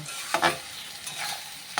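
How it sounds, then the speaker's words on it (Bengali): Potatoes and tomatoes with spices frying in a pan, a few sharp scraping stirs near the start and end over a low, steady sizzle, close by. "এখন এটাকে আমি ভালো করে ভেজে নেব"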